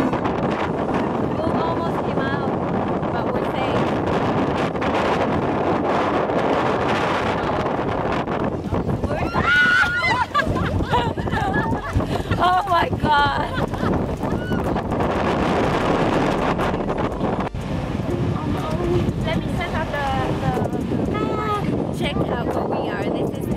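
Steady wind buffets the microphone on a moving boat off Ibiza, a constant rushing roar with voices talking over it.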